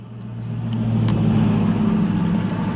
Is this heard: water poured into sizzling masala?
no